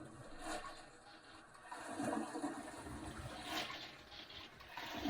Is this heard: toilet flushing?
yes